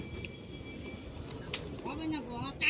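Pigeons at Beldanga market give low coos and soft calls among crowd noise and nearby talk, with a brief flutter of wings.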